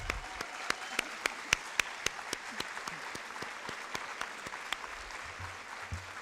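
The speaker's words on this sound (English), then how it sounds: "Would you guys stand up so we can clap for you" Applause from an audience at a high school academic awards night, honoring students after biliteracy presentations: a light scattering of individual claps, moderately near, steady over several seconds with no talk.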